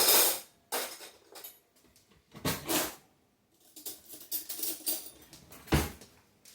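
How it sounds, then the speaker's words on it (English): Someone in a home kitchen grabs a spoon, producing a few scattered clinks and rattles of metal cutlery with short bursts of handling noise between quiet gaps. "Let me grab a spoon."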